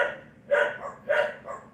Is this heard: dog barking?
yes